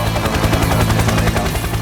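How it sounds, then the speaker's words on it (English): Ukrainian Sky Transformer helicopter hovering in place over an evacuation point at night, its rotor beating a rapid, even chop under a loud, steady engine roar. "Sky Transformer hovers in place, precisely over the evacuation point."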